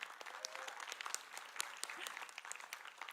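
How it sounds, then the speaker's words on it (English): An audience at a Métis languages conference claps for a youth panel, a soft, fairly distant patter of many hands that holds steady for about three seconds. "let's have a round of applause for our amazing youth panel"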